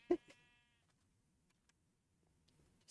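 A sheep in a Minecraft-style video game gives one short, loud bleat followed by a fainter second call, then quiet with a few tiny clicks.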